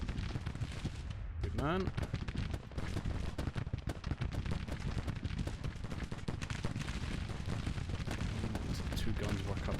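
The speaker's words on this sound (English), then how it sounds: "This looks like another great target to do some bombardment on." Artillery bombardment in the Grand Tactician battle game during a Civil War engagement: continuous loud rolling gunfire and booming cannon shots, with someone speaking briefly over the din.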